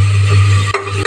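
Onion-tomato masala for pav bhaji fries in oil in a pan, a steady close sizzle with a low hum, briefly broken by short stirring scrapes near the end.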